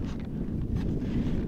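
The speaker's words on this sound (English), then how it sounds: "It's so windy, guys." Strong outdoor wind buffets the microphone in a continuous, heavy low rumble with gusty swells, heard alone with no talking.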